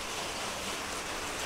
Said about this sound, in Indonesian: tapi hari ini hujan pula